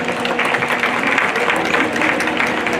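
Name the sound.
round of applause for the showman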